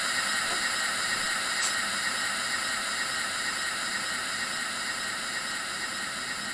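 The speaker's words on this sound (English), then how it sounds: "open the regulator by moving it upward until vertical. This will release steam power to the cylinders." A steady, loud hiss of steam from a locomotive as its regulator is opened in the Train Sim 2020 video game. The hiss holds evenly throughout, with a brief higher flick near the start and no talking.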